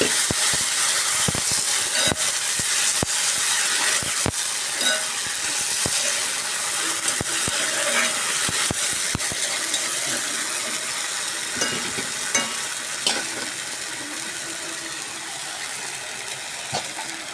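Steady sizzling hiss from a hot pan as boiled flat beans are added to fried potato, eggplant and onion, broken by sharp scraping clicks of stirring at irregular intervals, close and fairly loud.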